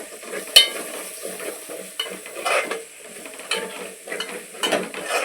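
A spoon stirs coriander powder into a frying masala of tomatoes, onions and ginger, producing a soft sizzle under repeated scraping and clattering strokes against the pan, close up with no voices.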